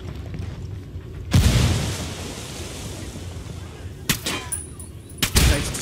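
Frag grenade blasts in the Ghost Recon Wildlands video game: a loud booming explosion with a long rumbling tail, followed later by two more sharp bursts, the last one heavy and close.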